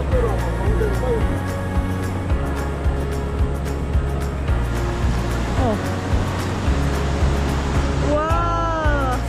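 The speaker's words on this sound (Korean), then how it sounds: "저기 뒤에 폭포 미쳤어 그러니까 소리 봐 소리" Roaring waterfall at a campsite trekking spot in Cheongsong, a steady broad rush filling the scene throughout, with excited voices talking over it.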